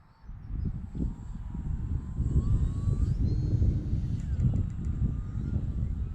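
An FT Legacy RC airplane flies overhead on its maiden flight, a steady, moderately loud motor whine with wind buffeting, holding fairly constant across several seconds with no voices over it.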